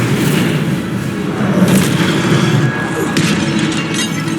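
Incendio, a fire spell cast in the Hogwarts Legacy video game, bursts out as a loud, roaring blast over a deep rumble, sustained for several seconds with a few sharper crackling flares.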